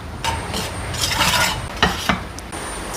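Food roasting on a low flame in a home kitchen, close scraping and stirring strokes over a light crackling sizzle, with a few sharper knocks of the spoon against the pan, no voices.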